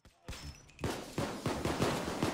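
Rapid assault rifle gunfire in Payday 2, loud bursts of shots cracking in a fast, repeating rhythm after a brief lull, close and dominant.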